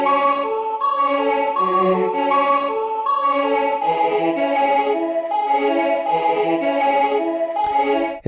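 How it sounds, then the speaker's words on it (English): A recreated choir for a Final Fantasy IX theme sings sustained, layered vocal chords in a slow, steady progression, full and continuous throughout. "And I recreated that original choir, which sounds like this."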